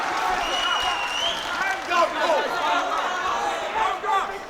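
Crowd at a Universal Cage Fighters MMA event, a dense roar of chatter, cheers and scattered clapping filling the hall, with whistles and shouts rising above the steady noise.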